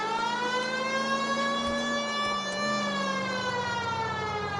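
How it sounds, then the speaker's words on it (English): A wailing police car siren in the video game LA Noire rises and falls continuously, loud and sustained with no other sounds. "You know we've got a siren, Phelps."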